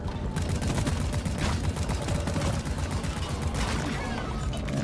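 Rapid GK2 rifle fire from the Scout class in Deep Rock Galactic on a Hazard 5 mission, a dense unbroken stream of loud close shots with no pauses.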